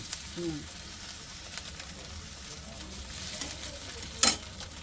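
Garlic and ginger stir-fry in a pan for crispy paneer, giving a soft, continuous sizzle with light stirring scrapes and one sharper burst of crackle near the end.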